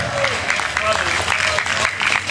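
A festival crowd applauds a band from Myślenice at a small music festival in Poland, a short burst of steady clapping with cheers while a voice speaks over it.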